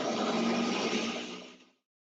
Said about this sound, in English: when the blender starts, you won't be able to hear me